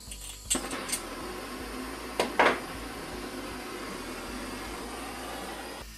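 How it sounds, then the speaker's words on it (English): A standard propane torch heats a rusted nut with a steady, even hiss that runs the whole time, broken early by a few sharp clicks and a brief louder burst near the middle. "We're going to just use a propane torch here, just a standard propane torch."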